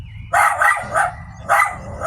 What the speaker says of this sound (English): this dog is going crazy